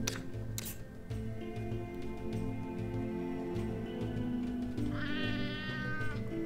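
A cat meows once in the Sheltered survival video game, a rising, wavering cry near the end over steady game music and ambient noise.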